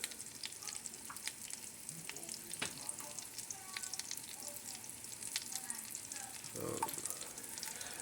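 Onions sizzle in a skillet for a patty melt, a steady quiet frying hiss with a few soft clicks and scrapes and a brief low thump near the end, no talking.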